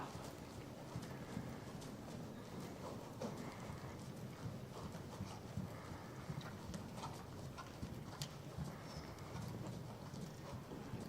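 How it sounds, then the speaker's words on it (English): Horse hooves clip-clop steadily under a rider working the horse, in a quiet and fairly distant, continuous rhythm with no talk. "a horse that is working nicely"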